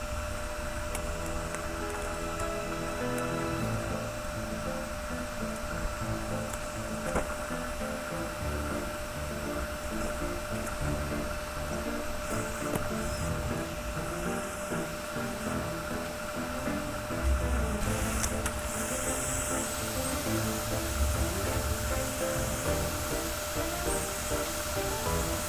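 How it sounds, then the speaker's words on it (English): A heat gun blows hot air at around 280 degrees onto the charging-port pads of a Nintendo Switch OLED circuit board, giving a steady, moderately loud rushing hiss that stays constant throughout with no talking. "Now I'm using the heat gun together with tweezers to gently heat the pads at around 280 degrees."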